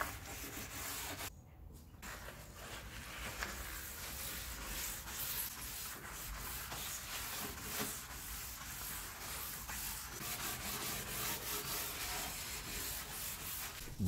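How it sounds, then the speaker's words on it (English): Steel wool scrubs stripper residue off wooden furniture under light pressure, a continuous close scratchy rubbing with steady strokes throughout and one brief pause near the start. "I'm just giving some light pressure and letting the steel wool do all the work."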